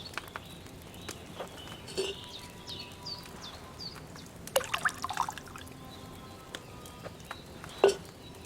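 Liquid poured into a cauldron in the video game Kingdom Come: Deliverance II trickles and drips softly in short splashes, with a few brighter clinks over a quiet, steady background.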